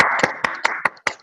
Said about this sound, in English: to unmute, to give a round of applause to our presenter today, Dr. Dagogo